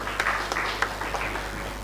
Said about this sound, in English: So a round of applause to Meru University.